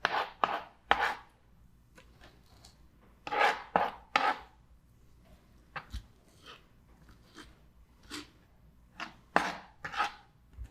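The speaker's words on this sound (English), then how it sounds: "I'm actually going to start chopping it a little bit more just to have some more fine pieces to be able to drag across" A knife chops food on a board with coarse salt, in irregular clusters of sharp, crisp strikes separated by short pauses, close and fairly loud with no talking.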